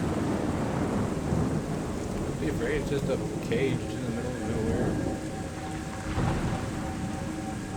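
A thunderstorm with steady rain in the video game ICO, continuous rain hiss with low rumbling thunder throughout, while a voice speaks over it.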